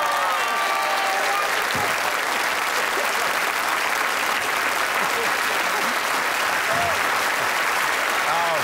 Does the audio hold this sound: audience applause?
yes